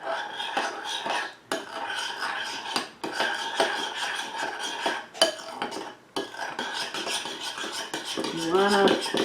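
A utensil stirs German cucumber salad (Gurkensalat) with dried parsley and dill in a bowl, making close, steady scraping and clinking strokes that run in bursts with brief pauses.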